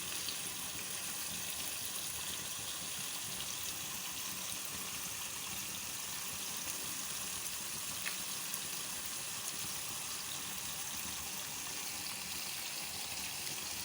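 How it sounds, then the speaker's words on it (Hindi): Thin chicken fillets sizzle in three to four tablespoons of oil, a steady, soft hiss that holds evenly throughout with no talking. "चिकन हमारा फ्राई हो रहा है, और बहुत ही हल्के ऑयल में तकरीबन 3 से 4 टेबलस्पून में"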